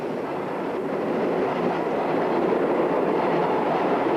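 A New York City subway train rumbles steadily and loudly, giving a continuous dense roar of wheels on track with faint clatter and no voices.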